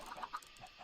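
Chickens in the Minecraft video game give a few soft, short clucks in quick succession, faint and alone with no talk.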